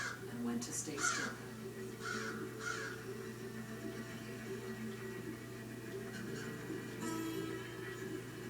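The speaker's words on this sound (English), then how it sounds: "He really likes watching crows." Several crows caw in short bursts from a television speaker, heard over a low steady hum, with a narrator's voice talking in between.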